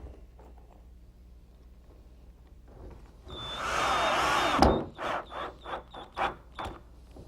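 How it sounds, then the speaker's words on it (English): A power drill driving screws into greenhouse frame joints: quiet handling at first, then a sustained whirring run, followed by a series of short, evenly spaced bursts as each screw is driven home. "Now I'm going to secure these joints with some screws."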